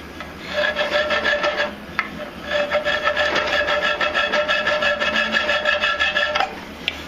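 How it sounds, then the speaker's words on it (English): Steel file rasping back and forth along a steel wakizashi blade to shave off burrs, with steady strokes in two long runs separated by a short pause, loud and close with no talking. "shave off any extra burrs."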